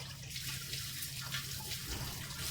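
Running water pours steadily to rinse soil off fresh mint leaves, a continuous close splashing wash of liquid with no pauses.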